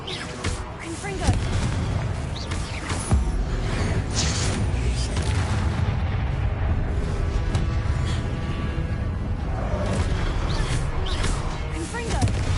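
Confringo spell explosions burst repeatedly in the video game Hogwarts Legacy, booming blasts and crackles amid continuous combat noise, with voices over the fighting.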